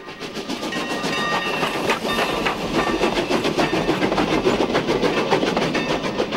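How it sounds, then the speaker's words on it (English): A steam locomotive train rolls steadily past nearby, a dense rumbling roar with rhythmic clatter of wheels on rails and faint tonal whistle traces, no voices. "The mournful wail of a steam locomotive whistle signals the passing of a train"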